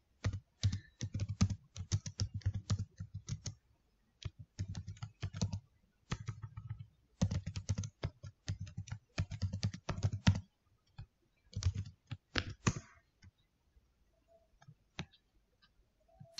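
Bursts of computer keyboard typing while code for a JUnit test is written, quick clustered keystrokes in irregular runs with short pauses, close and fairly quiet, no voices.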